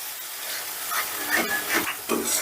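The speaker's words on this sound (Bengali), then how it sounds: "এবারে এই মশলাটাকেও বেশ ভালো করে কষে নেব" A ginger, garlic and green chili paste with a splash of water is being fried for rohu fish kalia, giving a moist sizzle with bubbling and soft stirring scrapes that swell and fade, close with no voices.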